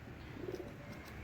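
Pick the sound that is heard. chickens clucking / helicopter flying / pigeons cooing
pigeons cooing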